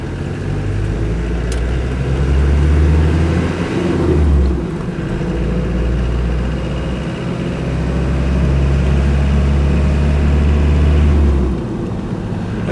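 A Land Rover 110 with a 200TDi diesel engine drones loudly from inside the cab, then the revs drop briefly and climb again as it shifts down to second gear before pulling on steadily.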